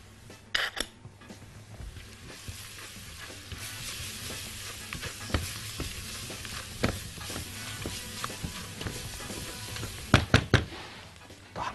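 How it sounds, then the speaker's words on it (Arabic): Onion frying with curry and turmeric in a pan, a steady sizzle under repeated stirring scrapes and knocks of a utensil against the pot, with a few louder clanks near the end. "التحميصه بتاعت البصلايه مع الكاري والكركم بيعملوا شغل عالي قوي"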